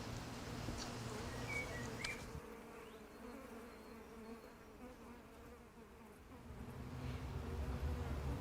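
Honeybees hum in a dense, continuous drone from an opened beehive, steady and close throughout, with no talking.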